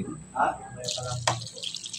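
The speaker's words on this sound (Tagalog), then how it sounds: "Lagyan lang natin to ng kaunting tubig." A little water is poured into a pan of cooking opo squash and eggplant, a short splashing trickle against the pan with kitchen clatter, while a person speaks briefly.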